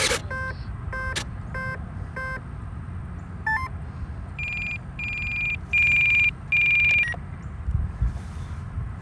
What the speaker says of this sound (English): Let the first ESC start beeping.